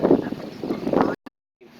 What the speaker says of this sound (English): almost hurricane force gust coming through